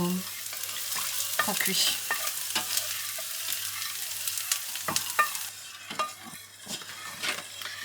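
Onions browning in a pan for lasagne give a soft, low sizzle broken by scattered scrapes and clinks of stirring. The sound stays fairly quiet and close, with one brief spoken word.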